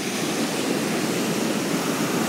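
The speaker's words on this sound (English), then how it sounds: "I'll wait a minute and see if there are any more waves coming in" Ocean waves wash onto a Los Angeles beach, heard as a steady, dense roar of surf and foam that continues evenly throughout with no voices.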